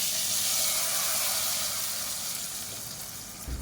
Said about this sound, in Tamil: சேர்த்துட்டு அதுக்கு மேலே அப்படியே இந்த தாளிப்பை ஊற்றிடலாம்.